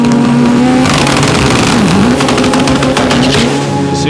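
Black Zenith EVO drag race car launching hard at the 2024 World Cup Finals, its engine a loud, sustained roar that dips briefly in pitch mid-run before climbing again, close and continuous with no talk.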